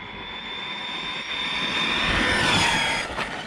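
A Corally Sketer 4S RC car speeds past at full throttle, its electric motor whining steadily and rising to a loud whoosh as it nears, with no voices.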